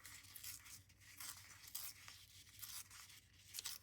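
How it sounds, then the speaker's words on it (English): Paper being torn off an index card in a craft project, a series of faint dry ripping and crinkling bursts spread over a few seconds, close and quiet with no talk. "I'm going to tear this off."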